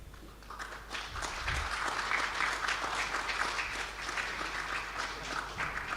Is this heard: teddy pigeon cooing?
no